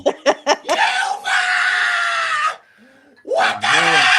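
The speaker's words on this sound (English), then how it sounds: "there's gonna be some screaming here" Shrill, sustained screams from an election-night recording: a few short yelps, then two long, loud, harsh wails separated by a brief quiet gap.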